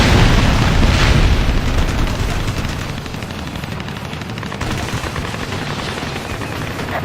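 In the video game Ace Combat Assault Horizon, a barricade is blown apart by explosions and heavy gunfire. A loud, dense barrage of booms and rapid shots starts out strongest, then continues as a sustained roar of fire with no speech.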